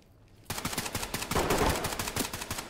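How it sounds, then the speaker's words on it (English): Gunfire in the tactical shooter game Ready Or Not: after a brief quiet moment, a rapid burst of automatic shots rings out, with sharp, evenly spaced cracks continuing close and fairly loud. "I'm getting shot at from, I don't know from where."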